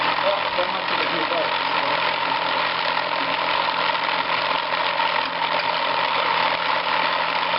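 A steady mechanical rattle from a Nostalgia Electrics cotton candy machine with a continuous motor hum runs throughout, close and fairly loud, with no pauses.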